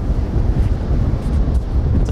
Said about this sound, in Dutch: Best stevig windje zo.